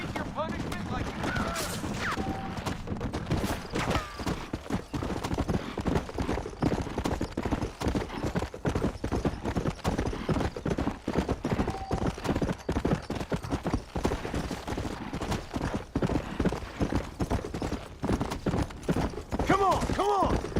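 Rapid hoofbeats of several horses galloping in the Red Dead Redemption video game, a dense continuous clatter with scattered gunfire cracks and shouting voices over it.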